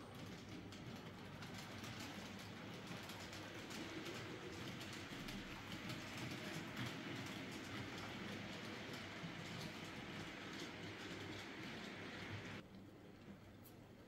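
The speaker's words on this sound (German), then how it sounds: "lassen den Effiliner jetzt weiter durchrollen" A Kühn TT scale model train rolls along the track with a steady, continuous whirring hum and faint rail clatter, joined by birds chirping in the background, ending in a quieter tail.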